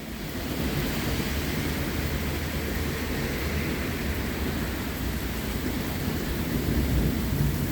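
Low, steady rumbling thunder rolls through a heavy rainstorm, with a continuous wash of rain noise filling the whole stretch and no voices.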